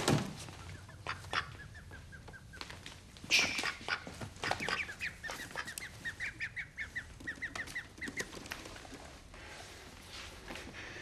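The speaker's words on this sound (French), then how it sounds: "pavane de canard, se dandinant sur paille." A duck waddles on straw, giving repeated quacks and short rustling steps close by, with bursts of calls and shuffling spread across the clip.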